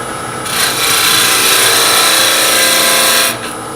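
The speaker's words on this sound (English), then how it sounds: "we're going to go to our shallow fluted gouge." Shallow fluted gouge cutting a spinning wood Christmas ornament on a lathe, a steady loud scraping rasp held for about three seconds, starting and stopping abruptly, with no talk.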